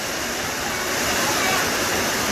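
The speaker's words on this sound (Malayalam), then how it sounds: "നല്ല മഴയല്ലേ?" Heavy rain pours down in a dense, even roar of broadband hiss that stays loud and steady throughout, with no voices heard.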